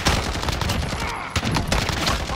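Galil rifle gunfire in Call of Duty: Modern Warfare, a rapid, loud, close burst of automatic shots with dense overlapping reports and a brief gap near the middle.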